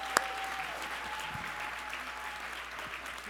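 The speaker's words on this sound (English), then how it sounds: "give them another round of applause to our amazing panelists who are up here today." Audience applause for panelists at a plenary panel of a 2019 conference, a steady diffuse clapping wash heard at a distance and fairly faint, with a sharp knock near the start.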